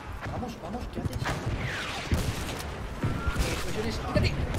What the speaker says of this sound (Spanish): Explosiones, quítate.